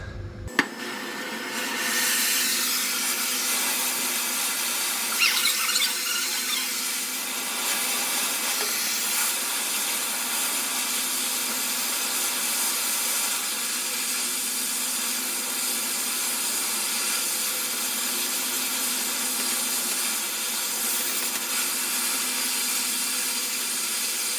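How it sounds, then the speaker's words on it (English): An oxy-fuel torch roars with a steady, loud hiss as it cuts leaf spring bushes out of a Scania truck, after a brief sharp pop at ignition, continuing unbroken with no voices. "I basically used the oxy to just wash the metal away so I didn't gouge into the leaf"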